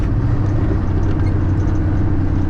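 A Kenworth W900 truck engine running at around 1800 RPM produces a steady, dense low rumble heard from inside the cab, loud and unbroken with no talking.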